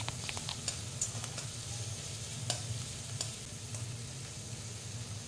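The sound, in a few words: garlic paste and green chillies frying in a pan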